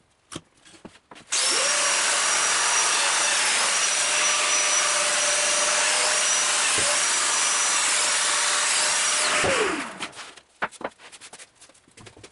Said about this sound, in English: Then I set the jointer up with the angled fence and cut the holes in the horizontal plate.